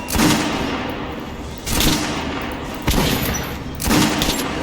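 Gunfire at a shooting range in the video game Metro: Last Light Redux, four loud, close bursts of rapid automatic fire spaced about a second apart, each ringing out briefly.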